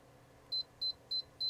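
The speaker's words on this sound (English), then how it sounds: "You press and hold, it beeps" A Tlyard car fridge's control panel, fitted in a Tesla Model Y Juniper, gives four short, high electronic beeps at an even pace, quiet and close, with no other sound.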